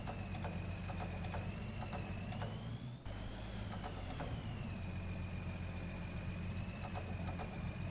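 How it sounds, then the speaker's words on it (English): Four-wheel drive tractor engine in Farming Simulator 22 reversing, a steady low idling drone with a rising and falling whine, close and continuous with a brief dip midway. "I've got a four-wheel drive tractor now"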